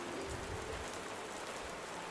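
Heavy rain falls steadily as a broad, even hiss with no pauses, close and fairly loud, and no one speaks.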